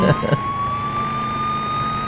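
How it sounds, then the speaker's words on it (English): A steady electronic police car siren from the video game Police Simulator: Patrol Officers wails continuously over engine hum, with a few short bursts of talk at the start and end. "We got the lights on, the sirens on."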